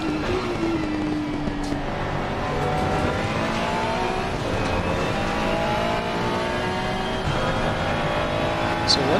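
Race car engine in a VR racing game, droning steadily with rising and falling revs throughout, mixed under a speaking voice.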